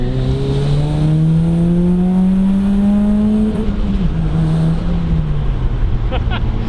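A turbocharged daily-driver car engine accelerates under load, its steady drone rising in pitch with a brief dip around the shift before climbing again, loud and continuous throughout.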